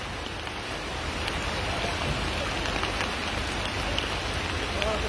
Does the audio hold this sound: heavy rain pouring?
yes